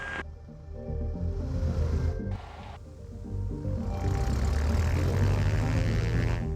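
A light propeller airplane takes off from the runway at Van Nuys Airport, its engine drone building from a moderate hum to a louder, broader roar as power comes up, with no talk over it.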